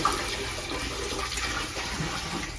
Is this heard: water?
yes